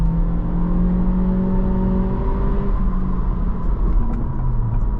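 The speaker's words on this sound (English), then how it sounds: "This is foot to the floor for acceleration." A 2025 Acura Integra hatchback accelerates at full throttle, its engine drone rising steadily in pitch as heard from inside the cabin, a constant moderately loud hum with no talking.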